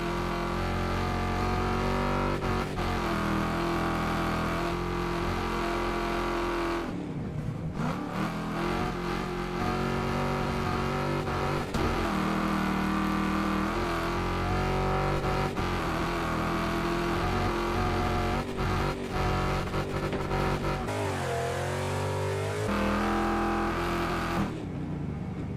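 A race car engine in Wreckfest 2 strains and revs hard through sustained acceleration. Its loud, continuous roar is broken by several gear-change dips and surges over roughly twenty-five seconds.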